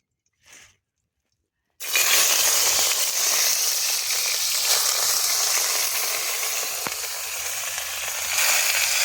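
Chicken pieces drop into hot oil in a pan and set off a loud, steady sizzle that fills the rest of the stretch, after a brief quiet start with a faint sound.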